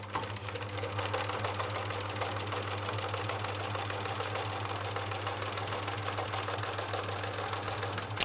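A sewing machine runs continuously at a steady fast clip, stitching pinned patchwork cushion pieces at a seam allowance, its motor hum and needle rattle close and even throughout with no talk.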